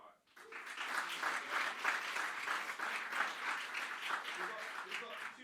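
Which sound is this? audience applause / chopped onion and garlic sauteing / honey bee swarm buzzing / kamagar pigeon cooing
audience applause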